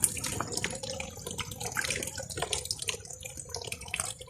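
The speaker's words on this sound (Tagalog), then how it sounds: "ako sa siyang gihumulan sa tubig kay para dili siya makuan" Water poured onto young native coffee seedlings, a soft continuous splashing and trickling with small irregular spatters, fairly close and moderate in level, with no voices.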